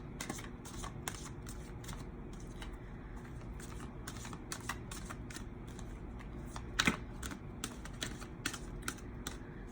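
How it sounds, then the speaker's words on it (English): Wild Unknown Tarot cards being shuffled by hand, a close, steady riffling and tapping of card stock that continues throughout with no talking. "So I am going to pull, these are the Wild Unknown Tarot. And I'm going to pull a Romance Angels card."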